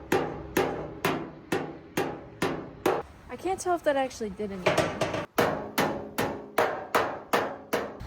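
Hammer blows strike a bowed-out car fender to pop out a dent, a steady series of loud, sharp metallic hits roughly every half second, pausing midway while a person speaks, then resuming.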